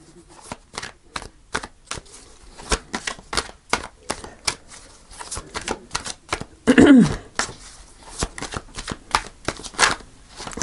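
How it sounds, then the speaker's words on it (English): Tarot cards are shuffled repeatedly up close, crisp riffling snaps in quick rhythmic bursts, with a brief murmur of voice partway through. "I'm going to shuffle one more time."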